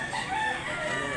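A rooster crows at a gamecock sale in Consolacion, Cebu, one short, steady call close by, with no talk over it.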